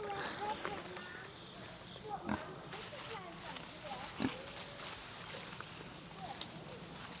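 Pigs in a farm pasture giving scattered low grunts and short snorts, faint and somewhat distant against a quiet outdoor background, with a person's voice heard at times.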